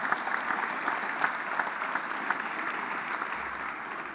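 Audience applause at a government event in Ontario, a steady wash of many hands clapping from the crowd, moderately distant and even throughout.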